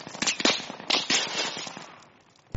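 Mortar fire in a desert combat video game: a rapid string of sharp, loud blasts and cracks in quick succession, tapering into a rumbling decay before another hard impact at the end, with no voices.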